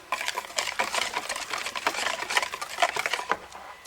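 Cake batter being stirred in one direction as flour is folded in from the sides of the bowl, a steady soft scraping and patting close by, with no talk.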